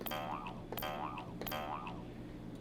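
A jaw harp sample played through the Granulator II granular synthesizer gives three springy, twanging boings, evenly spaced about three-quarters of a second apart. Each one rises and falls over a steady background drone.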